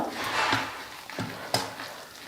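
A sautéed mixture with finely chopped coriander is stirred in a pan, producing a soft, continuous sizzle broken by a few distinct scraping knocks of the spoon against the pan.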